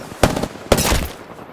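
Two sharp bursts of gunfire from a video game battle royale match, the first around a quarter second in and the second near three quarters, each loud and close with a short rattling tail, no talk over them.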